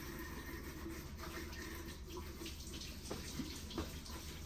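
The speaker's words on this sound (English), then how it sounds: "You gotta wash your hands." Tap water runs steadily for a child's handwashing in a home kitchen sink before cooking, a soft continuous broadband wash with small splashes, no talk over it.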